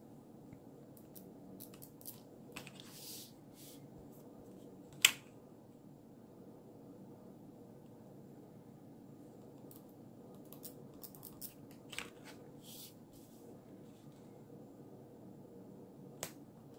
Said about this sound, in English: Scissors again. I'm just gonna cut along that chalk line once again.